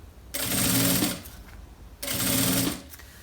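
A sewing machine stitches along cut fabric edges of a lined panettone holder in two bursts of rapid, buzzing needle action, each about a second long with a short pause between, close and clear without talk.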